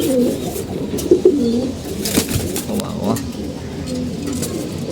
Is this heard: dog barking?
no